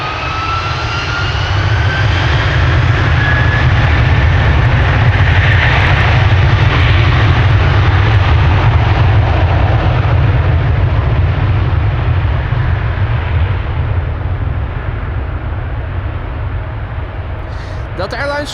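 A Delta Airlines Airbus A330-300, seventeen years old, takes off from Amsterdam Schiphol Airport on a flight to Orlando, its jet engines building into a loud, sustained roar that fades slightly near the end, with speech over it.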